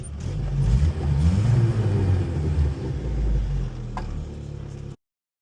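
A Toyota Odyssey engine idles with a low, steady rumble up close, then cuts out abruptly into silence.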